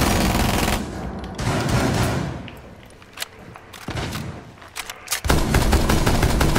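Bursts of gunfire in Rainbow Six Siege, loud and close, with dense rapid shots in several clusters separated by brief quieter gaps, ending in a sustained heavy volley.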